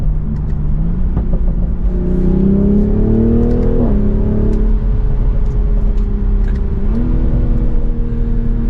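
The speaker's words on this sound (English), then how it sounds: "The exhaust really does put a smile on your face." A BMW Z4 sDrive M40i's exhaust drones loudly and continuously as the engine climbs through the revs, with no voices over it.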